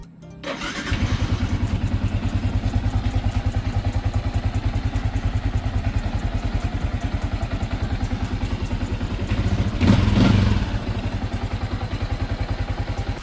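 A motorcycle engine, left unused for about a week, is started and left idling to warm up. It settles into a steady, close, throbbing idle that lasts throughout, with a brief louder surge near the end.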